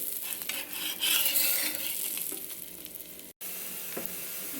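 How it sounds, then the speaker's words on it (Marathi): An onion and cheese paratha roasts on a hot griddle with a steady close sizzle and frying crackle, plus a brief scrape of a utensil. "आता दुसऱ्या बाजूने भाजून घेते"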